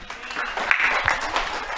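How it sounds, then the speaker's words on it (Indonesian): Short burst of classroom applause from students in a school lesson, dense clapping at moderate level with a voice audible over part of it. "Tepuk tangan untuk kita semua."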